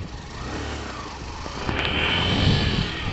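Engine of a Hero Glamour 125cc BS6 motorcycle running on the road, a steady close mid-pitched hum that swells louder and rises as the bike accelerates partway through.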